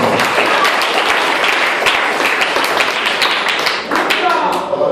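Church congregation applauding during an evangelical service, a dense, steady wash of many hands clapping close by with voices mixed in underneath.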